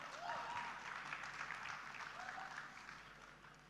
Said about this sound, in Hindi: एक बार जोरदार तालियां हो जाएं फॉर सर अवध ओझा